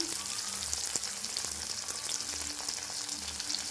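Chopped onion fries in hot oil for a soybean and potato curry, giving a continuous close sizzle dotted with sharp little crackles and pops.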